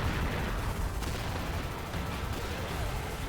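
Rapid gunfire from a special-ammo gun in the shooter game XSHOT, a dense continuous burst of loud, close shots with no pauses and a slight stutter.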